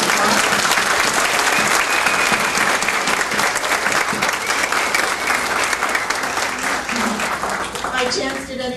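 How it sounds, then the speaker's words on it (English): Graduates at an honors recognition ceremony give a loud, sustained round of applause in a hall. It thins out near the end as a voice starts speaking. "please give yourselves one more round of applause"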